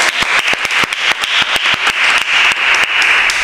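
Audience applause on the Marbella Te Quiero programme, with dense, steady clapping from many hands, loud and continuous, with sharper individual claps standing out near the front.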